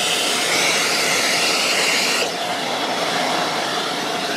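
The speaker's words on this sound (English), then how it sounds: "take the vacuum and try and suck out any debris that's fit in those holes" A vacuum sucks debris out of holes drilled in a boat deck during fairing, a steady close hissing roar that shifts to a slightly lower, duller tone midway through.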